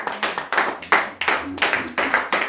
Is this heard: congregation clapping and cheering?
yes